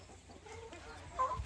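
Free-range caipira hens cluck softly in a farm yard, scattered low clucks and brief calls at a quiet distance, with one slightly louder call near the end.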